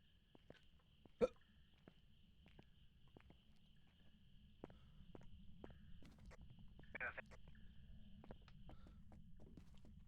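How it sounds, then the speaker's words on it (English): A single sharp hiccup in the ghost-hunting horror game Phasmophobia, faint and brief against a low hum and scattered footsteps. "Hiccups."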